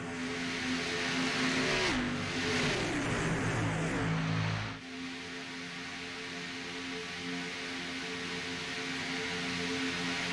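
Race cars at a Talladega charity race roar past in a loud, broadband rush of engine and wind noise that swells and cuts off within a few seconds, followed by a steadier distant engine drone.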